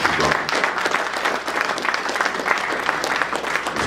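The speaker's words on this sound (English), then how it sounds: "Give yourselves a hand of applause." Audience applause at a live food event in Toronto, dense clapping from a room full of people, loud and continuous for the whole few seconds with no talk.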